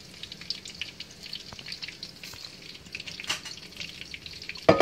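Breaded pieces of Korean fried chicken (dakgangjeong) frying in hot oil: a steady, close bubbling sizzle with light crackles, ending with a brief louder clatter.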